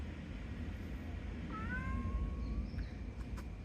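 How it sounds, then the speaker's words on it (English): A single faint cat meow rises and trails off over a steady low background rumble. "There's another cat."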